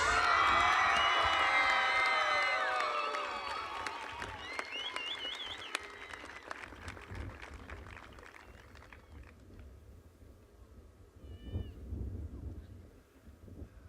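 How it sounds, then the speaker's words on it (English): A high school graduation crowd applauds loudly with cheers and whistled whoops, then the clapping thins and fades to scattered claps and murmuring. "let's give them one more round of applause."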